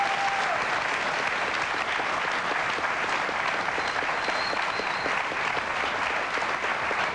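Steady, dense audience applause from a television talk show studio crowd honoring fathers on Father's Day, continuous and fairly loud for the whole stretch with no voices on top.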